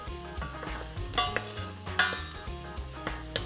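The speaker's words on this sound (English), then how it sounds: "We'll go back and give this a bit of a stir." Sliced carrots are stirred in a cooking pot for a curried carrot coconut soup, with a steady sizzle and scraping utensil strokes, a few louder clinks standing out, close and with no talk.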